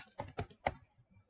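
A short burst of three or four keystrokes on a computer keyboard while coding in Python, close, soft and crisp, then quiet.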